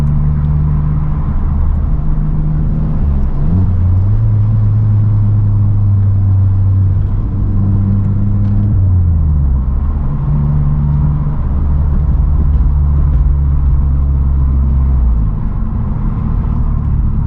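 Vauxhall Corsa engine idling and rumbling steadily from inside the car, with low droning tones that shift pitch a few times as revs rise and fall, continuous and fairly loud throughout.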